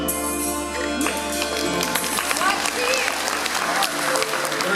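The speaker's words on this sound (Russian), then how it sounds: "Друзья, ваши аплодисменты." Audience at an evening concert applauding, steady dense clapping at close range with a few voices and whoops mixed in, continuing throughout.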